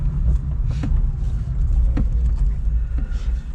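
An electric Fiat 126p Maluch rolls into a yard, a steady low rumble with faint whirring and a few soft knocks, heard close and continuous with no talk.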